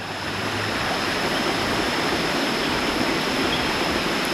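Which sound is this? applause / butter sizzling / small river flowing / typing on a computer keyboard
small river flowing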